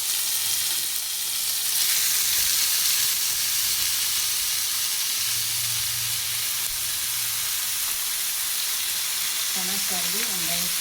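Mutton is added to a hot pan and fries with a loud, continuous sizzle close by. A faint voice comes through near the end.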